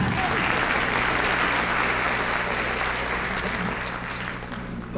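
An audience at a talk claps steadily and loudly for several seconds, a dense wash of hands with a low hum underneath, easing slightly toward the end.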